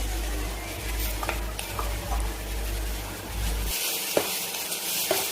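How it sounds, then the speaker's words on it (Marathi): Ground masala paste and spices being sautéed and stirred in a pan for a Marathi-style veg thali, a steady close sizzle with scraping spoon strokes and occasional sharp utensil clicks against the pan. "छान मिक्स करून घ्यायचं परतून घ्यायचं"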